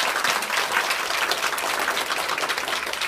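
An audience applauds three lecturers at the close of a seminar and Q&A session, with steady, dense clapping from a room full of people running for the whole three seconds.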